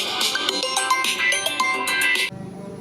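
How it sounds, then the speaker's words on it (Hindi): An incoming call sets off a phone ringtone: a bright, repeating melodic tune plays loudly and close, with no speech, then cuts off abruptly near the end. "सॉरी हमारे गुरुदेव जी का फ़ोन आ गया था"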